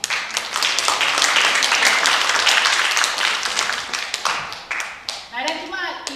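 Audience applause at a church fellowship Christmas party, dense clapping from many hands that swells and then thins out, with a voice speaking over the end.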